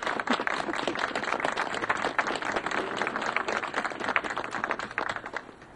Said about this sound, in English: And so applause for Eric